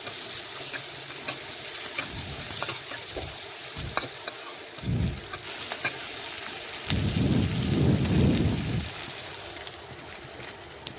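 Chopped onions fry in oil with whole cumin and two bay leaves for a fish-head curry with ridge gourd and potatoes, a steady soft sizzle broken by several louder bursts of stirring and scraping in the pan.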